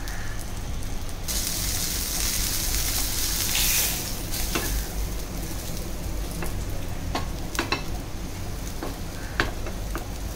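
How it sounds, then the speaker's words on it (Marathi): Pomfret fish shallow-frying in a pan over medium-high gas until crisp, a steady close, loud sizzle throughout with a few sharp pops and crackles. "छान असं क्रिस्पी लाल रंग होईपर्यंत दोन्ही बाजूने आपण त्याला तळून घेणार आहे."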